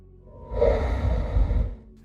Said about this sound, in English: Breathing is actually the first sound we hear as we fade in